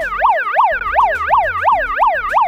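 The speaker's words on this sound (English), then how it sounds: "The shelter alarm sounds like this." Tornado shelter alarm blaring as a loud, continuous electronic whoop that sweeps up and down in quick, steady repeated cycles, heard alone with no voices.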